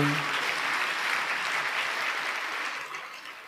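A seated audience at a Telugu church sermon claps together in a dense, sustained burst of applause that fades slightly toward the end, with no voices over it.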